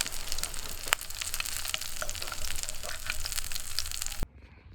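Smelt fried in a pan at a Houghton Lake outing crackle and hiss continuously, with scattered pops and sharp clicks. The sizzling cuts off abruptly near the end, leaving only a faint background.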